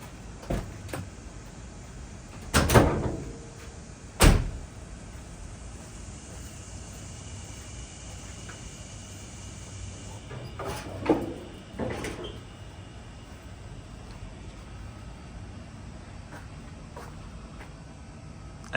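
Hood being opened on a Chevy OBS truck with a TBI engine, a few metallic clunks and thumps from the latch and hood against steady background hiss, with a quieter rattle later and no talking.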